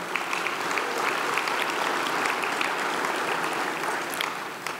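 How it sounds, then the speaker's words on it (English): Conference audience at a sustainability summit's morning plenary clapping for a platinum sponsor, a dense, even roar of many hands that holds steady and begins to taper near the end. "Let's give them a round of applause."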